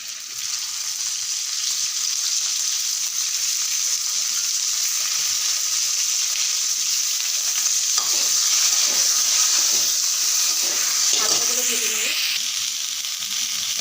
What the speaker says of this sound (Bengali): কড়াইয়ে আর একটু তেল দিয়ে ফুলকপিগুলো ভেজে নিচ্ছি